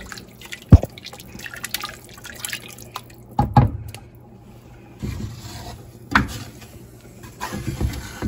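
A roux being stirred in a skillet, with a spoon scraping and clinking against the pan in irregular close strokes and wet dabs.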